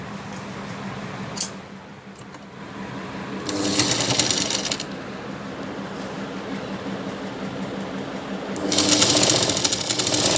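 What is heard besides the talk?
sewing machine stitching the hem of a lehenga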